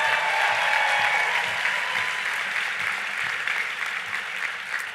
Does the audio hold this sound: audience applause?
yes